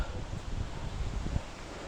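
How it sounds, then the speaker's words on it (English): Outdoor wind picking up on a trail among trees, heard as a low, gusty rumble with faint rustling, steady and close to the microphone. "Wind's picking up."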